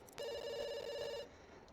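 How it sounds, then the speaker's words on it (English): A telephone rings inside The Sims 2, one clear electronic bell-like ring lasting about a second, loud and alone before it cuts off into quiet game ambience. "Phone's ringing."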